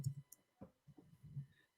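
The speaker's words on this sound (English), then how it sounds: "you can hear my keys clacking away" A handful of computer keyboard keys clack in short irregular bursts, fairly faint and close, with pauses between strokes and no voices.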